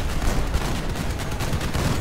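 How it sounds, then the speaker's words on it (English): Side-mounted cannons fire in the vehicle combat game Crossout, a dense, loud, continuous barrage of booming gunfire blending into a heavy rumbling roar throughout. "Kind of awkward to shoot side-mounted cyclones or cannons, so not all of my shots are gonna hit."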